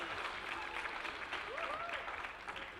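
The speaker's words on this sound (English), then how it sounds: "Welcome to the 2020 Caribbean Days Festival. With a round of applause," A festival crowd at the Caribbean Days Festival claps in a round of applause, continuous and fairly dense at moderate distance, with some cheering voices over it.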